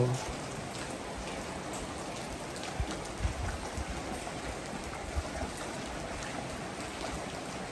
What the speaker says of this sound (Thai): มาดูมาชมบรรยากาศฝนตกเนาะบรรยากาศฝนตก